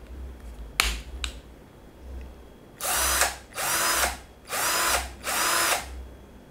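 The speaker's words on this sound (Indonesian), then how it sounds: "di sini adalah tuas untuk mengaktifkan atau menyalakan dari mesin bor ini." An NRT Pro DC320 cordless drill first gives two sharp clicks. Then it whirs up in four separate short bursts, each lasting about a second, with brief pauses between them. The sound is close and clear, and nobody talks over it.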